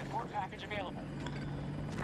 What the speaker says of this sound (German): Warte, warte, Heli kommt.